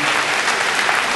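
Audience at a ceremony honouring Odisha's school and mass education minister breaks into applause, a dense, even burst of many hands clapping close and loud.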